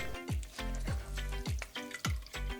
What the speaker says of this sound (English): Now I'm gonna add in about 1 cup of cold water, blend it a little bit more